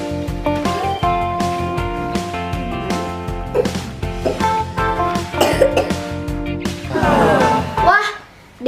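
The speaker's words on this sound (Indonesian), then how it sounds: "Ya Kak, aku batuk-batuk juga." A child coughs repeatedly over bright, steady background music with tonal layers, then breaks into a louder, harsher burst of coughing near the end.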